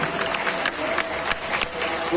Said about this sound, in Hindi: एक जोरदार तालियों से स्वागत किया जाए।